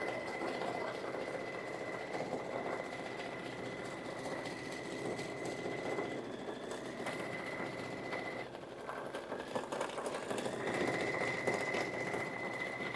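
A computerized embroidery machine stitches out a design with a steady, fast mechanical whir and a droning tone that shifts slightly in pitch, continuous and moderately close, with no talking.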